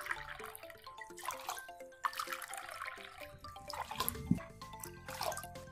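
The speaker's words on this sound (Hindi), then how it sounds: "अब इसमें हम पानी डालेंगे।" Water poured into a cooking pot of sugar, a splashing, trickling stream that rises and falls in a kitchen, with faint tonal background music and no speech.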